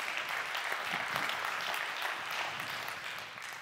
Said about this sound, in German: ihr habt eben geklatscht